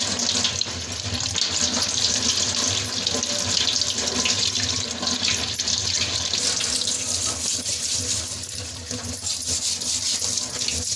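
Lotus stems being washed under a running kitchen tap, a continuous loud hissing stream of water splashing into a sink, steady throughout.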